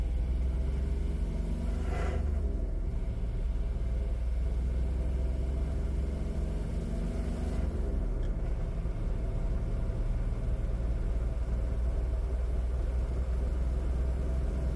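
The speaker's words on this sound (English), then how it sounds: "now I'm going to accelerate the car normally" Small turbocharged Kubota 719 cc diesel car engine running steadily under acceleration, a continuous low droning rumble at moderate level with a faint whoosh near the start and again later, no talk.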